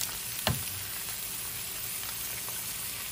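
Four eggs fry in a pan for a steak-and-eggs breakfast, giving a steady, close sizzle with a brief louder crackle near the start, continuing alone without talk.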